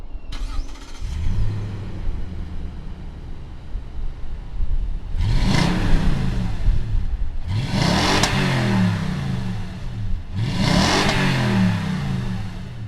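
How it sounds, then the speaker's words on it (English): A 2020 Toyota Tundra SR5 pickup's naturally aspirated V8 cranks and catches, then revs hard three times in a row, each roar climbing and falling back to a rumbling idle. "naturally aspirated with a V8. Let's go ahead and fire up this one,"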